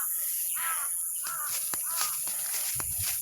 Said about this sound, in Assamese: এয়া কাউৰীয়ে মাতিছে